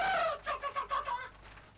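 Free-range hens clucking close by, a short run of soft rhythmic clucks that trail off after about a second.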